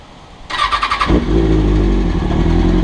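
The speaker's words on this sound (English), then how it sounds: "we're going to go ahead and start the bike up" A sportbike resting on its rear stand cranks briefly, then fires into a loud, steady idle that settles close by with no talk.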